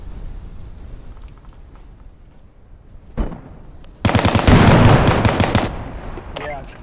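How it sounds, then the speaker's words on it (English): Gunfire in the multiplayer war game Bellum during a playtest session: a low, muffled backdrop of distant shots gives way to a loud, sustained burst of close machine-gun fire lasting nearly two seconds, then trailing shots. "But they seem to be shooting at us."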